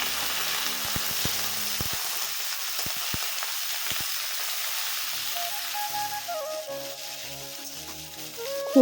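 Chopped eggplant hits a pan of fried onion and green chili, giving a steady, moderate sizzle with scattered crackles and soft stirring clicks near the end.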